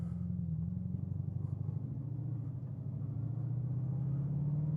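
Bugatti Chiron hypercar pulling away and accelerating, a steady deep engine drone with a low tonal hum that shifts slightly in pitch as speed builds, continuous and close, with no talk.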